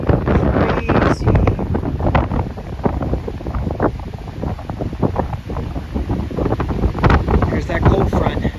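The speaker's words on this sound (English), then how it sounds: "Look at that wind." A strong northwest wind buffets the microphone on a rainy, chilly coast, a loud continuous roar with gusty bursts and a speaker's voice breaking in now and then.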